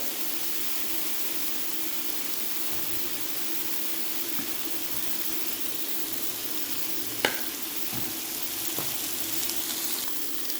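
Bacon containing sugar fries steadily in a pan on an electric cooker in a camping setup, giving a continuous even sizzle with a couple of faint clicks and taps, and no talking.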